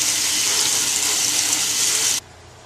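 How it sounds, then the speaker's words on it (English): Hot water poured in a steady heavy stream onto an old rusted part with a rubber wheel, a loud continuous splashing gush that runs alone and then stops abruptly. "Now we'll go ahead and hit it with a good shot of hot water here."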